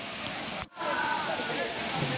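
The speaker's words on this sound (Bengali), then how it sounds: "একটু একটু দেখা যাচ্ছে ঝর্ণাটা বিশাল বড়, সহস্রধারা 2 ঝর্ণা" Sohosrodhara 2, a large waterfall at Sitakunda swollen by rain, roars as a dense, continuous rush of falling water, close and loud, with only a momentary dip in the steady wash.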